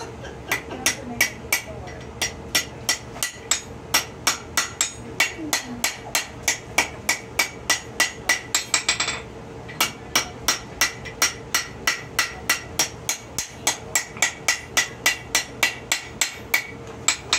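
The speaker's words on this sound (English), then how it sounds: "So I'm going to hammer that down now." A hammer strikes a copper and wrought iron coffee scoop in quick, regular blows, dozens of sharp metallic hits close up with a brief pause midway, no talking.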